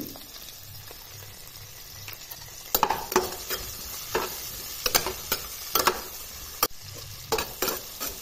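A low sizzle of vegetables frying with turmeric and salt in a pan, broken by sharper clacks and scrapes of a spoon stirring at irregular intervals, with no talking.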